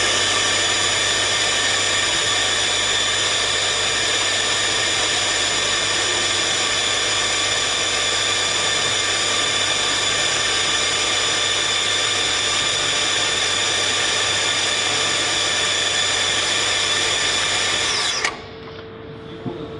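A TB-60 electric 240V pipe and tube bender runs continuously while bending a tube, a loud, steady motor whine and drone that cuts off abruptly near the end, with no talking.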